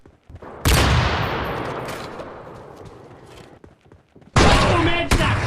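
Gunfire in PUBG Mobile, two sharp, loud bursts of shots, the first ringing out and slowly fading, the second coming close after a pause.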